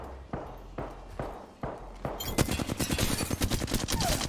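Gunfire from a Flatline rifle in Apex Legends: a few spaced single shots, then a fast, steady burst of automatic fire, loud and close, with no talk over it.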